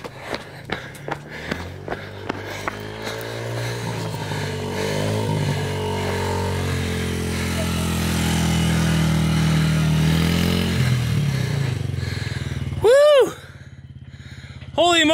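A child rides a dirt bike uphill, the engine droning steadily with rising and falling pitch across the whole stretch, a few sharp knocks early on and a brief sweeping whine near the end.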